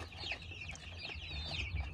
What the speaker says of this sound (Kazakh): Менің балапандарым